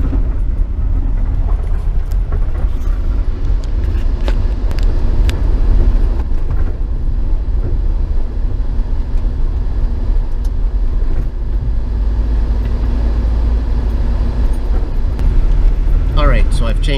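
A car drives across a pony truss bridge with a concrete deck in Ray County, Missouri, with a loud, continuous rumble of tires and engine and faint rattles throughout.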